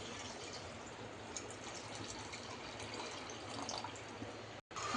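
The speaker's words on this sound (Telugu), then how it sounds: "వాటర్ వేస్తున్నాను." Water is poured into a pot of basmati rice for Karnataka-style chicken donne biryani as a steady, continuous rushing stream that lasts nearly the whole time and cuts out briefly near the end.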